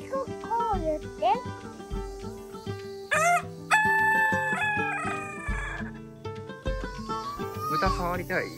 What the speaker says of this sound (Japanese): ニワトリ。